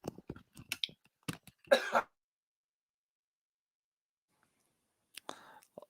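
A few short, sharp throat sounds, coughs and throat clearing, come close together, then silence, and a brief voice follows near the end.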